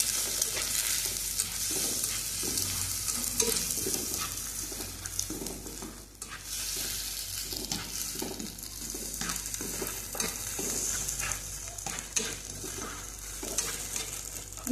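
Egg mixture for egg burji is stirred in a hot pan, a quiet continuous sizzle broken by soft scraping strokes of a spatula at a loose rhythm.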